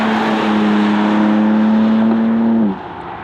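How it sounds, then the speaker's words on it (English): A BMW M4 Competition coupé (G82, 2021) on a racetrack course set among cones on an old airfield, its engine holding a loud, steady droning tone close by before dropping away sharply near the end. "let's see how the M4 Competition behaves on the racetrack"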